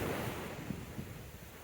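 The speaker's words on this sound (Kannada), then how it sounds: "ಈಗ ಅಲೆ ಫಾಸ್ಟ್ ಅಂದ್ರೆ ಫಾಸ್ಟ್ ಆಗಿ ಬರ್ತದೆ" Fast waves rush in at Kumta's Honnalli beach in the evening, a steady dull roar of surf with wind noise over it, fairly faint and continuous.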